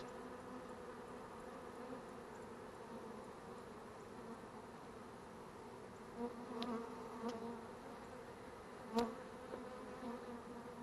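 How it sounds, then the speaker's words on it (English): Honey bees swarming in a water meter box, a faint, steady droning hum of many insects with a few brief louder buzzes of individual bees passing close. "I'm going to dump these bees on the sheet here to make it a little easier for me."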